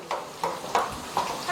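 Shrimp and mushrooms fry in garlic-infused oil for Spanish gambas, a steady sizzle broken by four rhythmic scraping stirs close by.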